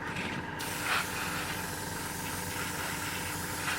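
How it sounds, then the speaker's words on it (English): An aerosol spray can hisses steadily as a coat of paint goes onto a scale model, a close continuous spray with brief shifts in intensity as the can moves around. "keep spraying all different angles, up and down, low and high, all over it"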